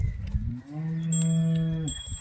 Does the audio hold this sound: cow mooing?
yes